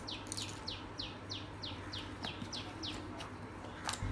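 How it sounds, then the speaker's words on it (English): Birds chirp outdoors after rain, a rapid series of about ten bright, evenly spaced descending tweets over steady background hiss, with a louder call near the end. "the birds seem to be enjoying themselves very much"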